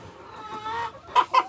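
A criolla hen at a home coop gives a soft drawn-out call, then three short, sharp clucks in a quick rhythm, heard close and clear.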